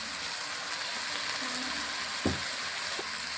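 Green chillies fry in hot oil, a dense steady sizzle and crackle up close with a couple of spoon clinks and stirring sounds near the end.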